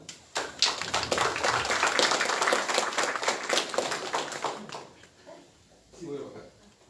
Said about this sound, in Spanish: Recibamos con un fuerte aplauso al doctor David Moisés Silva Napuri